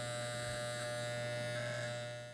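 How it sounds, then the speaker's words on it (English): An electric hair clipper outliner runs in a steady, even buzz during a side-part haircut, held close and lightly touching the skin, with no talking. "We're going to very lightly touch his skin with the clipper"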